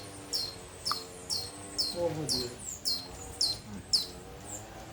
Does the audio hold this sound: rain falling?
no